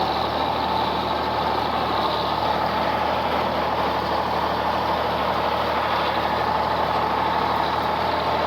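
A White 2-70 farm tractor engine running steadily in a continuous, even diesel drone at close range, with no speech over it.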